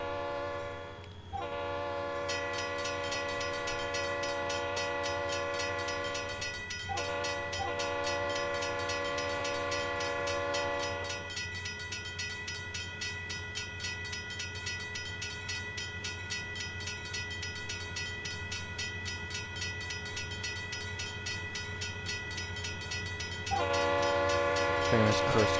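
Locomotive in the Trainz video game idling near a crossing, with a steady engine drone and a sustained, loud train horn blast that runs for most of the scene.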